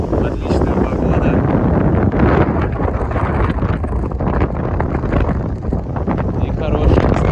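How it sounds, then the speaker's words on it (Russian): Strong wind blows in off the Black Sea on the Sochi seafront, roaring and buffeting the microphone continuously and loudly throughout. "Ветер достаточно сильный с моря дует."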